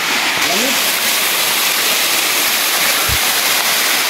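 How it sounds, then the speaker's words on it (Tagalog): Dalog Falls in the forest at Infanta, Quezon roars loudly and steadily, a dense unbroken rush of falling water close by, with a brief low thump near the end. "So yan yung falls guys, oh."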